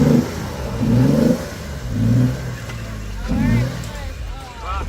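A lifted, locked Jeep Wrangler JKU Sport engine revving in loud repeated surges as it climbs an off-road obstacle, the revs rising and falling in waves close by, with people talking between them.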